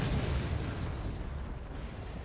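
In the artillery game Forts, a nuke strikes an enemy base and brings most of it down, giving a loud, sustained booming roar and rumble that slowly fades.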